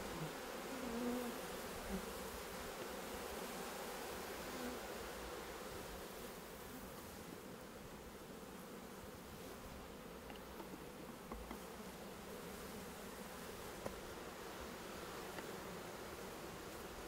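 Steady, low buzzing of many honeybees at a hive, a continuous drone without pause, moderately close and fairly quiet.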